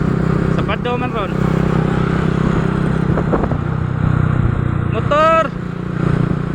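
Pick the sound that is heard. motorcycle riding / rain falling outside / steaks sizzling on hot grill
motorcycle riding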